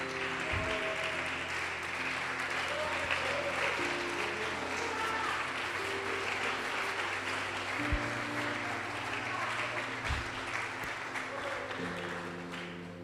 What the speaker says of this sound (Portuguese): Pode aplaudir e glorificar o Senhor Jesus.